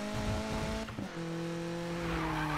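A Mazda Miata in the Need for Speed 2015 racing game loses grip and slides, its tires skidding and squealing over a steady engine drone, loud and continuous for a couple of seconds.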